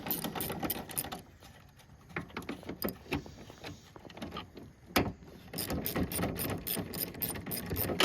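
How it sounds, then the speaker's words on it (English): A ratchet on headlight bolts of a Ford 6.0 Power Stroke truck gives quick bursts of close, crisp clicking, pausing briefly in between before the rapid ratcheting resumes. "Now we're going to finish these bolts off."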